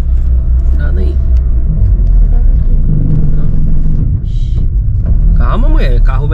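An old car's engine rumbles loudly and steadily from inside the cabin, a low continuous drone with people talking over it throughout.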